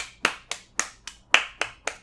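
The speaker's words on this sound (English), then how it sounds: "He got a clap and applause for that." About eight slow, evenly spaced hand claps from a single person, close and crisp, with no other sound between them.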